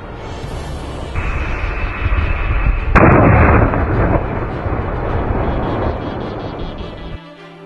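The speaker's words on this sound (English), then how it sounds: "The blast is over 4 times louder than other simulators" Explotrain X-OMG extra-large battlefield blast simulator going off outdoors, a huge booming explosion with a sharp crack partway through, followed by a long rumbling roar that fades abruptly.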